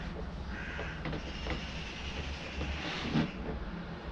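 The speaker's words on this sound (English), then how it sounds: "Sounds like the birds out there is going crazy." Crows outside caw loudly and repeatedly through a constant broad hiss of background noise, several harsh calls scattered across the stretch with no speech.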